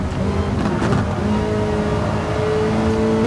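Racing car engine in a Gran Turismo GT Cup Gr.3 race at the Red Bull Ring in heavy rain, loud sustained engine drone with a shifting, rising pitch as the car accelerates and its wheels spin.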